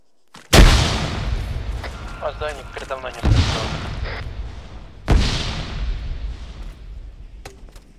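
Three heavy booming blasts, close and loud, each followed by a rumbling decay, with a voice talking in between.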